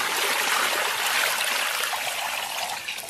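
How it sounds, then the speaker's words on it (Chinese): Water poured steadily into a cooking pot holding two beef steaks for a clear-simmered beef dish, a continuous loud splashing rush that lasts throughout without pause. "然后给里边稍微来点水"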